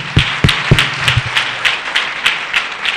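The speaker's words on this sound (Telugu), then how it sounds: "ఒకసారి గట్టిగా చప్పట్లు కొడదాం." A church congregation claps loudly together, with several sharp, close bursts of applause at first, then settling into a steady rhythm of softer hand claps.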